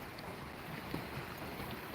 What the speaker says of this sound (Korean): 물소리도 들리지? 그지? 겨울과 물소리도 들리고.